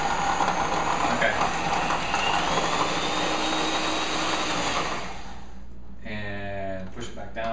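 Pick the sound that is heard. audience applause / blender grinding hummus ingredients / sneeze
blender grinding hummus ingredients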